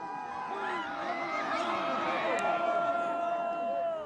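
Tribal village crowd cheering and shouting as the sacred great drum arrives at the village entrance, a dense, continuous wall of many voices with whoops rising over it, steady and loud throughout.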